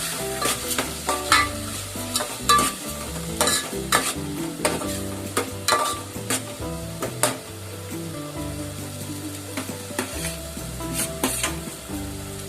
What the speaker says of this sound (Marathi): चांगलं परतून आपल्याला लाल करून घ्यायचं कांदा